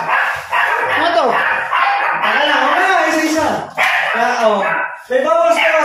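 A dog barks and yips in short bursts close by, sharing the space with lively overlapping talk in a house.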